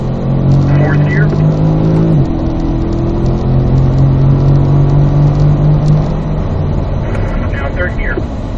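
A Corvette accelerates on a race track, its engine note climbing steadily and loud from inside the car, with a driving instructor speaking over the drone throughout.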